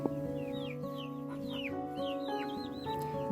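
Young chickens, or pullets, and a rooster gather at the coop at night. Soft clucks and high, rising chirping calls repeat continuously over a steady humming background, fairly close.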